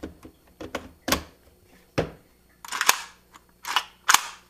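An airsoft AK-series rifle with an RA Tech trigger set dry fires, giving sharp mechanical clicks and clacks spaced irregularly and close, some with a louder snapping burst, with no voices.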